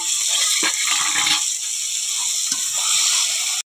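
Water poured into a cooking pot of rice with meat for homestyle pulao, a loud continuous gushing rush with a hissing sizzle beneath it that cuts off abruptly at the end, with no talking.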